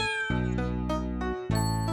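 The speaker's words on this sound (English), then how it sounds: "Mary, looks like your cats wanted to ride in my fire engine." Cartoon cat meows from a nursery rhyme cartoon, two sustained tonal cries set over bright background music with chimes, loud and close.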